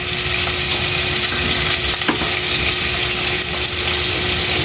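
Coconut milk and chili sizzle steadily in a pan for tuna red meat stew, a dense continuous frying hiss with occasional stirring scrapes.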